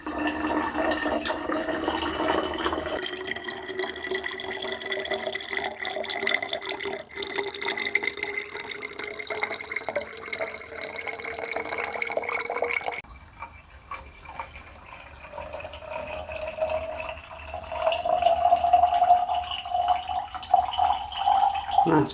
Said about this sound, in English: let's top up with our cold water.